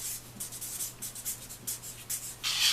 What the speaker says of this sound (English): write down the size